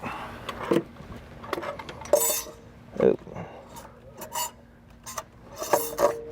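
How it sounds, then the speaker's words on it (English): Metal clinks and scrapes as a turbocharger and its gasket are fitted onto studs in a diesel truck engine bay, scattered short knocks and rattles with some quiet talk in between. "Now this gasket needs to go up into place here, and we'll kind of hang it on the studs and then drop the turbo into place."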